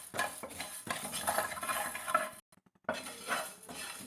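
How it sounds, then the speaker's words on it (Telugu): Amla pickle ingredients dry roasted in a pan without oil, with steady scraping, stirring and clinks of a utensil against the metal, briefly pausing to silence before resuming. "డ్రైగానే వేయించుకోవాలండి, నూనె ఏమి వేయకుండా."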